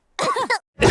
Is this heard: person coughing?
yes